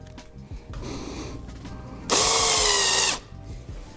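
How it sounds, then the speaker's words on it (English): Power drill boring a blind hole in a Honda CBX motorcycle engine case: a short burst of bright, loud, high whine lasting about a second, set between quieter handling noises up close. "Now our first step is to actually drill this piece."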